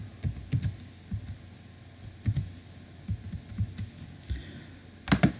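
C++ code typed on a computer keyboard while writing a main function, with scattered keystrokes and clicks in uneven bursts, close-up and moderate in level, ending in a louder cluster of taps, with no talking.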